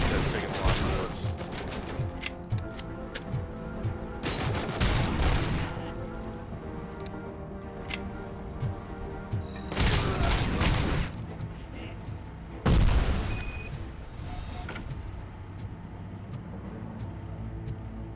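Gunfire in the RoboCop: Rogue City video game: several loud, separate bursts of shots spaced seconds apart, with a lower mechanical background and a voice talking in between.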